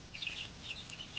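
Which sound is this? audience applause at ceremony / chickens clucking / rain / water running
chickens clucking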